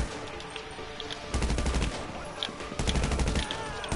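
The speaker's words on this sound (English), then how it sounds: "I can't when people are shooting at me" Rapid automatic gunfire in GTA V multiplayer gameplay, dense bursts of shots that swell louder around the middle and end, continuous and close.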